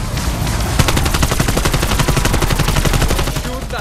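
Rapid automatic gunfire in Call of Duty Cold War Zombies, a loud, continuous burst of closely spaced shots lasting several seconds with no pauses.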